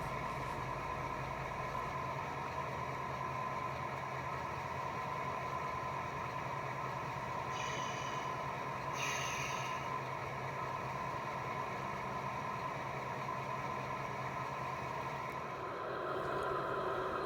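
A freight train hauling woodchips climbs the 1.5% grade up Chinese Hill on a mountain subdivision, giving a steady, droning rumble throughout, with a brief higher hiss partway through.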